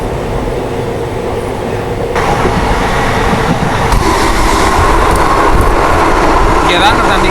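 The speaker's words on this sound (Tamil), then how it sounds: "அந்த வந்தே பாரத் கிராசிங் எடுப்போம்." A Vande Bharat express train crosses close by, heard from aboard another train, with a loud continuous rumble that swells partway through, wind rush and faint rail clatter, and voices underneath.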